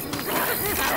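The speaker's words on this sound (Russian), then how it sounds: "Перезаряжаю." A weapon reload in Left 4 Dead 2 gives a quick series of close mechanical clicks and ratcheting clatters within a second, over a steady game background.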